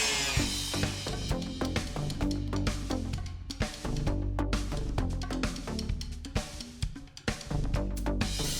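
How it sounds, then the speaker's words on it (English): A power sander works the interior of a kit forebeam, giving loud, continuous buzzing grind broken by rapid scraping strokes and brief surges as the tool is pressed and moved. "So on to sanding."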